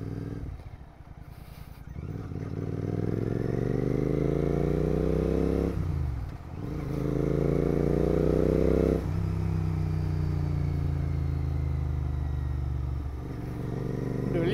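A GT 650 motorcycle cruises along a road at night. Its steady engine drone rises in pitch through several long pulls, dips at each gear change and climbs again, loud and close throughout.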